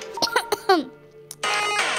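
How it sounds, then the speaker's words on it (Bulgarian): A couple of short, sharp coughs close to the microphone while playing Geometry Dash, followed by a brief pause and a burst of noise. "Чакайте, че малко кашлям."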